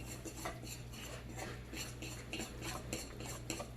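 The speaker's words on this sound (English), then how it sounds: "So now we just want to keep mixing and mixing and mixing." A spoon or whisk beats pancake batter in a bowl, making steady rhythmic scraping and clinking against the sides that continues without pause and without any voices.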